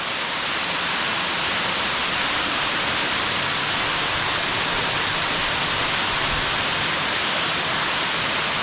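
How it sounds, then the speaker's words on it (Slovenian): A waterfall plunges into a hidden pool along the Tolminka river, a loud, unbroken roar of falling water heard up close, a steady broadband rush that fills the whole stretch without pause or voices. "Zdaj pa noter do slapu."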